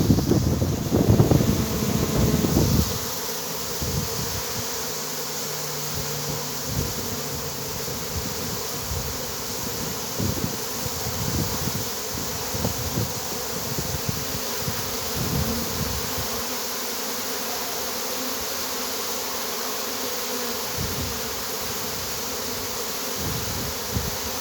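Honeybees at a hive buzz and fan their wings in a continuous close drone, with a louder burst of buzzing and wind noise at the start, then a steadier hum with scattered flybys.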